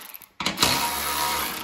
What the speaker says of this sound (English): You're gonna loosen up your side skid shoes.